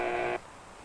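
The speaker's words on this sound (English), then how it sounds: "As this button is pushed, the food tray comes up and a buzzer sounds." A short electric buzzer sounds as a food tray rises in a 1950s bird-training apparatus: one steady, moderately loud buzz lasting under half a second before cutting off to quiet room noise.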